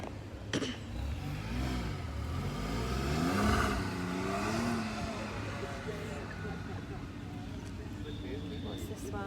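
A supercar at an outdoor school car show at Canford School passes with a rising, whirring engine note that swells and then fades, while nearby spectators chatter over it.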